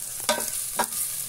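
Onion dropped into a hot pan, giving two quick scraping stir strokes over a steady sizzle, brief and close.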